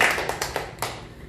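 A church congregation claps together in praise to God, a quick patter of applause with a few louder hand claps standing out as it fades over about a second.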